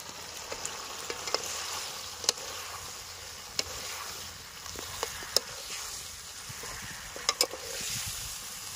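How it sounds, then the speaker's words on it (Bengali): Battered fried jackfruit pieces tossed with a spice mix sizzle steadily in a pan, with soft scraping and sharp clicks of a stirring spoon against the metal. "ফ্রাই এঁচড়গুলো এখন দিয়ে দেবো, এবার একটু হালকা নাড়িয়ে নেবো"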